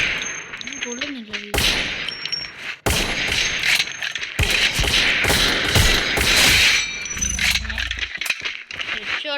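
Gunfire in a shooting video game, bursts of sharp cracks and metallic rattles with brief pauses, loud and close, under a talking voice.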